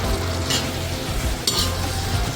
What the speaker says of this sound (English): So I like to throw in some good ginger there. Let it start to fry up there.